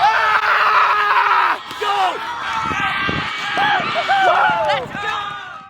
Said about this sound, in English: they have found a new passion for running and screaming out on the field